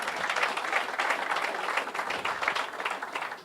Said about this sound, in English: it's okay to have applause